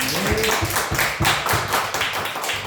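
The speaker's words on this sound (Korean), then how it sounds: "하나님께 우리 영광의 박수 한번 올려드립시다" A small church congregation claps in praise to God, a light rhythmic patter of hands at moderate distance with little else around it.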